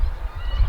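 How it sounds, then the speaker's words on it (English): Birds honk outdoors in low, rough calls that blend into a steady rumbling background, nearby and moderately loud, with no voices over them. "Oh, birds."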